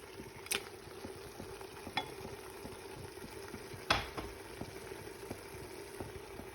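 Beef rendang ingredients stirred together in a pan over low heat, a soft continuous sizzle with occasional spoon taps and scrapes against the pan, quiet and close.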